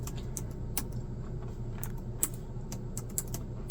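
Typing on a computer keyboard: irregular bursts of light key clicks with a few sharper taps, close and alone over a quiet room hum.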